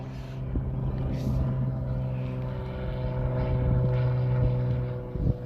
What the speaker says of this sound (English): this guy in a vehicle drove past us